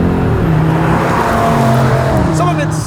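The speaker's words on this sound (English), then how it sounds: "that symphony from that 5-cylinder engine" A 2025 Audi RS3 sedan's 5-cylinder engine revs hard under acceleration, a loud, close, rising growl with gear changes and brief tire noise toward the end.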